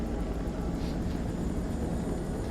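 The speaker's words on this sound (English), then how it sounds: "In his fucking Comanche helicopter." A Comanche helicopter in the video game Man of Medan flies with a steady, droning rotor and engine roar that stays even and fairly loud throughout, with no voices.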